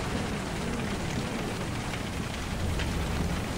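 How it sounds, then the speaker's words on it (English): Hail pelts down during a storm chase in a dense, steady roar of impacts that fills the whole clip, with no voices over it. "Oh my god, this hail is terrible."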